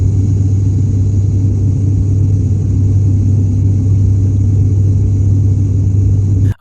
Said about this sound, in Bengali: টার্বোপ্রপ ইঞ্জিনের সেই চেনা ছন্দময় শব্দ